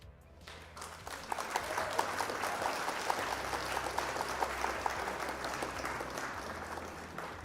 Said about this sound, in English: Round of applause for our opponent.